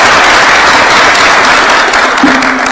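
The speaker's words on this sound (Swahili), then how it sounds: "Tumpigeni makofi." An audience at State House in Nairobi, gathered with President Ruto to host Nairobi United FC, breaks into loud, sustained applause that fills the whole moment without speech.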